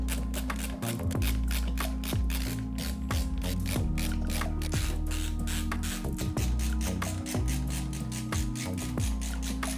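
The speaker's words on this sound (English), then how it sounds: "Now all we have to do is screw it in." A screw is driven into a component during a gaming PC build, producing a continuous close run of rapid ratcheting clicks with steady loudness throughout and no voices.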